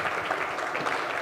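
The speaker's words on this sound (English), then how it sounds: "The clapping is for you" An audience claps steadily at a talk on politics and governance, a dense, even patter of many hands at moderate distance with no voices.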